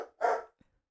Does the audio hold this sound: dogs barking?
yes